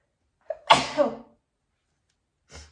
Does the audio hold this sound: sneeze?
yes